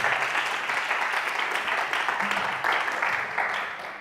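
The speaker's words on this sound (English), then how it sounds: "let's clap it up for the organizers and the people who put this together." Audience clapping for the organizers at Social Media Week Puerto Rico, a steady, dense wash of applause filling the room for about four seconds and tapering slightly at the end, with no talk over it.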